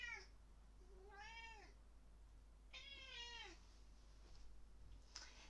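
A house cat gives two clear, drawn-out meows over a steady low hum, then a faint third call near the end.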